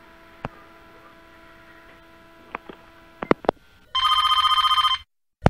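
A telephone rings in a prank-call comedy sketch: one loud, sustained electronic ring burst lasting about a second, preceded by a few sharp clicks and handling knocks over a low steady hum, with no talking.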